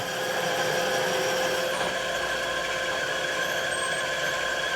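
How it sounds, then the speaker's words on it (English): A power drill drilling holes in a Harley-Davidson 1997 Evolution 80ci engine case hums continuously at close range, with a steady whine that holds for the whole stretch and no voices. "Are you drilling 3 or 2?"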